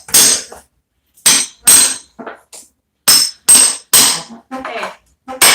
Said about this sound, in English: You got to take your chisel and then just hold it and pop it up from off the concrete.